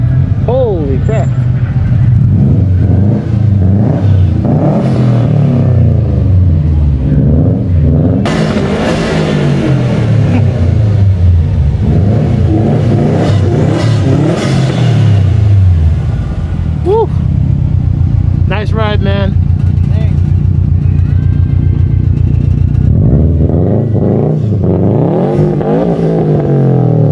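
A car engine at a car meet during MegaCon Orlando 2021 revs repeatedly in loud, rising and falling bursts, close by and sustained throughout, with voices and crowd noise mixed in.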